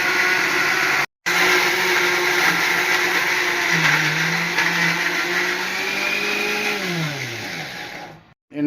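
A kitchen mixie grinds garlic and chilies into a village-style nalla karam paste. Its loud, close motor whine runs steadily, briefly cutting out near the start, dipping and rising in pitch, then stopping at the end.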